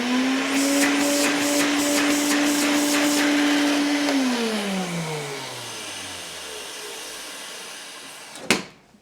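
An Electrolux Olympia Special 1453 vacuum cleaner with bad motor bearings runs loud and steady with a droning hum, then spins down, the pitch dropping as it coasts to a stop, followed by a sharp clunk near the end.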